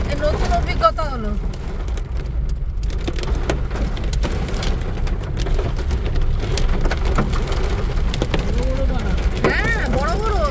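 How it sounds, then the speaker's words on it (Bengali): Heavy rain and hail beat on the roof of a car in the Ajodhya hills of Purulia during a storm, a dense, continuous drumming patter close overhead, with people talking over it. "কি আওয়াজ! ঝড় যেরকম, বৃষ্টি সেরকম।"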